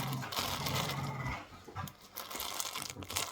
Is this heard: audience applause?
no